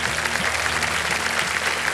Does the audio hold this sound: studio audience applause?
yes